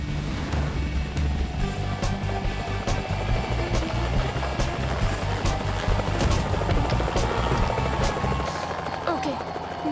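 Cartoon helicopter in flight in an animated show, a continuous loud rotor thrum with steady rhythmic chopping throughout, with speech present, fading abruptly near the end.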